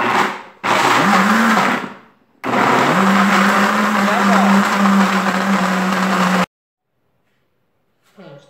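An electric mixer beats liquid soap concentrate in loud, steady whirring bursts whose motor pitch dips and rises under load, stopping abruptly, followed by brief quiet and a little talk.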